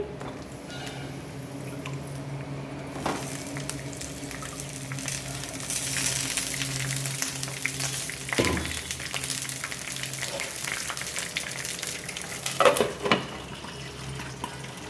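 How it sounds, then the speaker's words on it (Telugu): Stuffed brinjals (gutti vankaya) fry in hot oil, giving a steady soft sizzle with occasional louder splutters and stirring noises. "ఆయిల్ హీట్ అయ్యాక దీనిలోకి ఇలా వంకాయల్ని వేసుకొని చక్కగా ఫ్రై చేసుకోవాలి"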